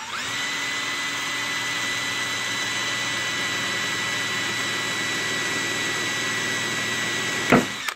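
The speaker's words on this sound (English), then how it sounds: "we're going to make these pilot holes" A drill whines steadily while boring pilot holes in a metal fishing spoon. The pitch stays high and constant, then a short clatter at the very end as it stops.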